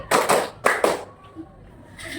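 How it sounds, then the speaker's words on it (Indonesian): Four sharp hand claps in quick succession, close by, part of a classroom clapping game, followed by a quiet pause with faint room noise. "Tepuk 4 kali."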